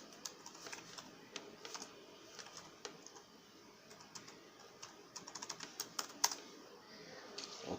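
A computer keyboard is typed on softly at a point-of-sale computer, with scattered light key clicks that grow busier near the end, quiet and close, with no one speaking.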